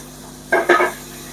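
Chopped tomato tipped into a pan of softened onions and capsicum for chilli cauliflower, a brief burst of sizzle and a couple of scraping stirs lasting well under a second, then a low steady background.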